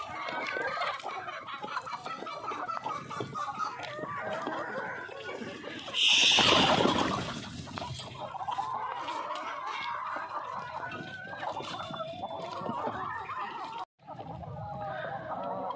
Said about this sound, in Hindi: ये देखो जी, पालक डाली है मुर्गियों को, कैसे खा रही हैं।